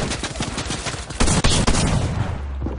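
Gunfire in the Fortnite video game, heard as rapid bursts of loud close shots that run together into a dense barrage, with a couple of heavier blasts in the middle.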